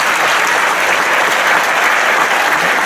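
A studio audience applauds school groups on a television show, a loud, even sheet of clapping that holds steady throughout.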